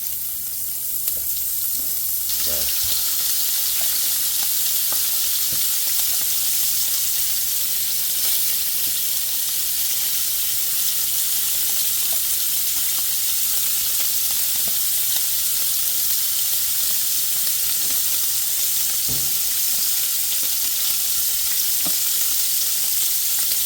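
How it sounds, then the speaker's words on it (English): Sausage sizzles steadily in a pan with peppers, onion and minced garlic, a constant loud frying hiss with occasional soft pops and clinks, no voices. "I'm putting my sausage in now so it could cook."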